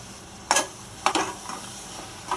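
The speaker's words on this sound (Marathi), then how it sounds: "सगळ्या भाज्या मसाल्यामध्ये परतून घेऊ।" Mixed vegetables, chopped tomato, green peas and potato pieces, sautéing in masala in a pan, with two sharp scraping stirs against the pan over a soft sizzle and a lighter scrape at the end.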